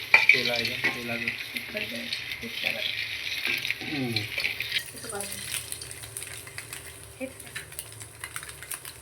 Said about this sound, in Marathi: इकडे अंडी भाजून घेतोय आपण